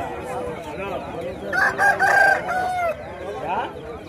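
A rooster crows loudly nearby at the Mydukur chicken market, one drawn-out call in the middle, over a busy background of murmuring voices and other clucking birds.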